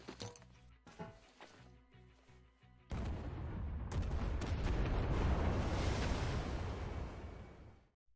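Fireworks in the video game Metro Exodus, a sudden roaring burst of crackling explosions that swells and holds loud for several seconds before fading, following quieter ambient game sound with faint music-like tones.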